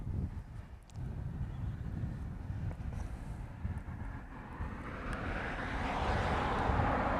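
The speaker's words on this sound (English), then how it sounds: "A 321 just lit up that's heading off to Portland with the Extra X." Airbus A321 jet engines spool up at Honolulu airport, a low distant rumble growing into a broad rising roar toward the end, with wind buffeting the microphone and no talk.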